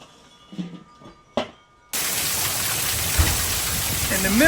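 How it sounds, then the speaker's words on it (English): Heavy rain suddenly starts pouring during an outdoor barbecue, a dense, loud, continuous hiss that swells and holds after a few quiet seconds with faint speech before it begins. "because here comes the rain."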